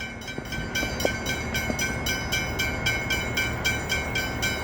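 A PT suburban train passes near Dandenong station with a steady rolling roar, rhythmic wheel clatter and a high tonal whine from the motors, close and continuous without speech.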